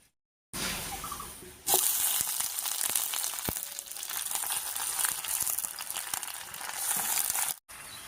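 Fresh malabar spinach (pui shak) from a home garden drops into hot oil tempered with cumin, dried chilli and chopped onion, bursting into a loud, steady sizzle that holds for several seconds and ends abruptly.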